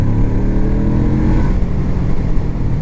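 A motorcycle, freshly shifted from second into third at about 50 km/h, pulls forward with a loud, steady engine drone and wind rush, the revs building gradually.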